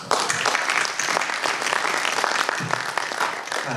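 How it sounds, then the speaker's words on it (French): Conference attendees at the RURALITIC 2019 event on territorial wifi break into sustained applause, many hands clapping densely and evenly in a reverberant hall, loud and unbroken throughout. "je crois qu'on peut les applaudir"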